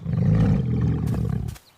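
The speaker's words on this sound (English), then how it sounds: "It's a brave little lion." A lion's roar in a children's animal adventure: one deep, rumbling, sustained roar, loud and close, lasting over a second before it cuts off into near silence.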